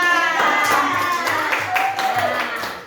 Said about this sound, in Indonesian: Yang terakhir kita juga akan memberikan tepukan untuk kelompok yang 3.